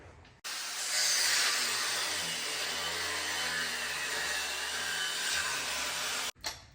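A Chevy C10 squarebody cross member being cut out with a power tool, a loud, steady high-pitched grinding whine that runs almost without a break and stops abruptly at the end.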